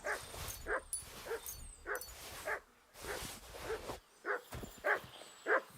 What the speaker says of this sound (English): That dog do be loving to bark.